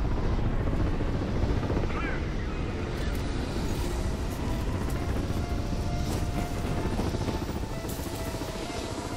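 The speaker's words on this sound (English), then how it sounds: "And they've got attack helicopters in support." Attack helicopter in the Crysis 3 video game, a steady loud rotor drone filling the whole stretch with a dense, continuous roar and faint game sounds layered over it.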